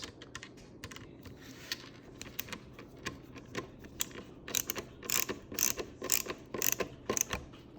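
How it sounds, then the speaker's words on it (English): A screwdriver tightening two screws gives a run of close, quick clicking and ratcheting ticks that grow louder and denser toward the end, with no voices. "grab my screwdriver and start tightening those 2 screws"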